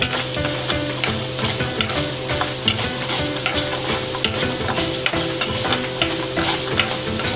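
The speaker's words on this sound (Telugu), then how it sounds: "ఇప్పుడు ఆవాలు వేసుకుందాం." Mustard seeds crackle and sizzle in hot oil for tempering a Telugu-style ridge gourd roti pachadi, a steady dense frying hiss with scattered sharp pops and some stirring clatter throughout, fairly loud and close, with no talking.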